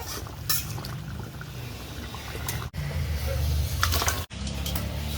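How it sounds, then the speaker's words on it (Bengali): Chicken curry slides out of a cooking pan in a continuous wet, gloopy pour with occasional clinks, heard up close with a couple of brief gaps. "আমার রান্নাটা হয়ে গেছে, আমি তরকারিটা ঢেলে দিচ্ছি।"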